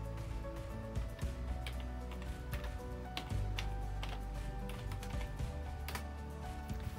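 Keys tap on a computer keyboard as a digital certificate password is entered, a run of quick, quiet clicks over a steady background hum.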